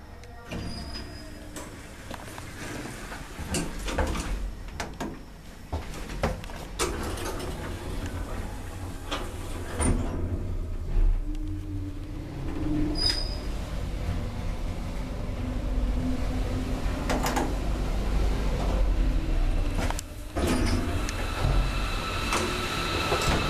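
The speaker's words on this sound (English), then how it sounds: "let's ride the lift." An older 1990s Schindler lift in a Hamburg hospital runs with a steady low hum and rumble, and its doors slide with faint clunks and rattles. The sound is close and continuous, with no talking.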